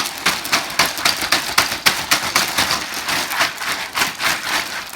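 Ice and milk shaken together inside a zipped plastic bag to make ice cream, a rapid rattling, crunching rhythm of repeated shakes, close and steady for several seconds with no talk.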